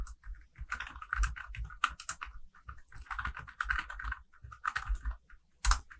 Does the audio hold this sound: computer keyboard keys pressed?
yes